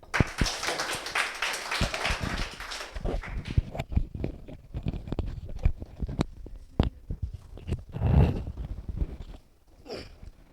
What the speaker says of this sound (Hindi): ज़रा तालियां।